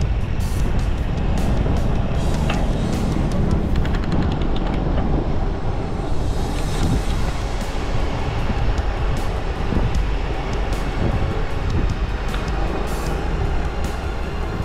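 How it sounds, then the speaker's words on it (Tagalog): Strong wind roars steadily while travelling on the Mindoro loop, a loud, continuous broadband rush with low rumble that stays dense throughout, as if buffeting a moving vehicle. "Oy, lakas ng hangin."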